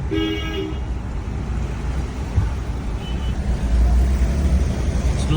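A vehicle horn honks in short toots at the start and again around three seconds, over steady rumbling traffic and engine noise, during torrential cyclone rain.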